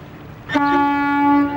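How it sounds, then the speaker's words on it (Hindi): A boat's horn gives a single loud, sustained tonal blast lasting about a second, sounding close by with no voices over it. "हॉर्न है ये।"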